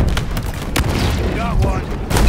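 Gunfire and explosions from a Halo Infinite battle with a tank and a Ghost vehicle: dense booms and sharp blasts crowding the whole moment, with shouted voices over the combat.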